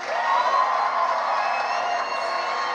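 An evening audience of a crowd cheers and whoops loudly, a dense, sustained roar of voices and applause that holds steady throughout.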